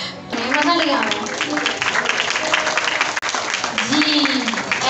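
An audience claps steadily through the whole stretch at an event featuring blind students, with a voice speaking over the applause at two points.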